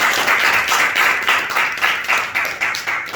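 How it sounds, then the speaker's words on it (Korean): A congregation at a Korean Sunday church service gives a burst of applause, a dense and steady round of many hands clapping close by for a few seconds. "우리 한희의 박수 한번 하겠습니다."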